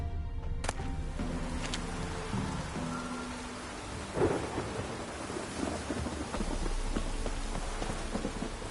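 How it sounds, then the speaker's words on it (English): Stormy weather in the Witcher 3 game world: steady rain hissing over a low rumble, with a sharp thunder crack midway, continuous and fairly loud with no voices. "A storm, damn it."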